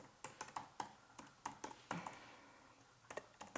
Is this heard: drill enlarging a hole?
no